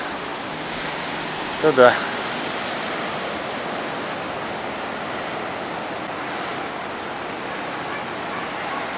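Steady roar of ocean surf washing continuously at a beach in Mirissa, Sri Lanka, with a short murmur of speech partway through.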